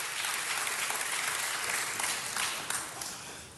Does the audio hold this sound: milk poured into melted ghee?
no